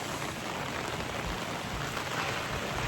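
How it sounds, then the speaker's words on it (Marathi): Dense, steady downpour of heavy rain, a continuous hiss with no gaps or voices. "एवढा पाऊस यायला लागला ना इथे"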